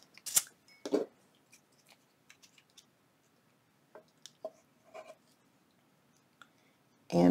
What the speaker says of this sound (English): we're going to snip just a little bit off of this once again